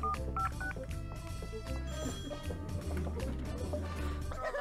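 A telephone rings electronically in the Neighbours from Hell video game, with tonal beeping phone tones layered over busy background game music.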